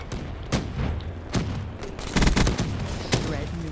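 Bursts of automatic fire from a hardened sentry turret in Call of Duty Black Ops III, sharp volleys at roughly one-second intervals with a denser rattling stretch midway, loud and close amid game noise.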